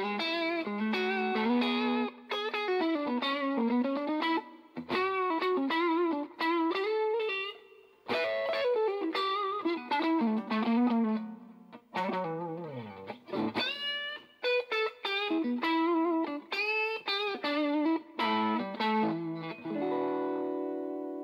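Electric guitar played through a Velvet Umble overdrive pedal at low gain with all controls at noon, mildly driven chords and lead lines ringing with slight sustain and no talk.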